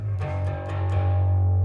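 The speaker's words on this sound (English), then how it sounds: "You can hear that extra layer of distortion." Bass guitar run through a distortion pedal for a worship song's final chorus, a thick sustained low note with a fuzzy, grinding overdriven edge and a few picked attacks, loud and alone.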